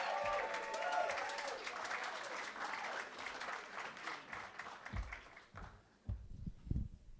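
An audience at a stand-up comedy show applauds and cheers loudly for several seconds. The clapping thins out into scattered claps and a few thumps near the end.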